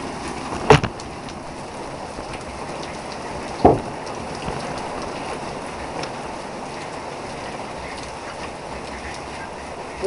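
Heavy outdoor rain falls as a steady broadband hiss throughout. A couple of sharper knocks or splashes stand out early on, and there is no speech.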